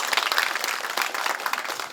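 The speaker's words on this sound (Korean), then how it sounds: "이철우 도지사님한테 고맙다는 뜻으로 박수 좀 부탁드립니다." Dense, steady applause from an audience at a government event in Uiseong County, Gyeongbuk, marking a cell-cultured food special regulatory zone, filling the full two seconds with continuous clapping.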